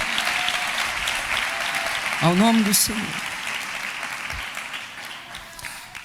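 A church congregation applauds together after a sermon prayer, a broad steady wash of clapping heard while someone speaks over it.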